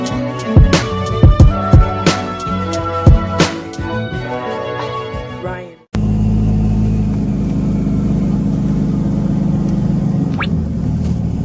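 Music plays for the first half, then cuts to a steady low rumble from a Cummins diesel truck engine idling, loud and continuous, heard from the cab.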